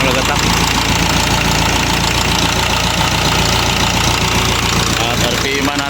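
Isuzu 4HL1 diesel engine idling with heavy knocking, a loud, rough, continuous rattling clatter close up with a voice talking over it.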